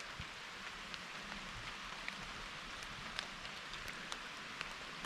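Steady rain patters on the water and surroundings during a fishing outing for rock bass, a dense, even hiss with scattered droplet ticks, continuous and moderately quiet with no talking.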